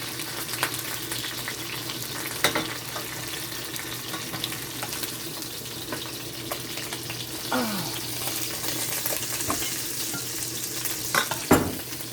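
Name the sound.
fish frying in a pot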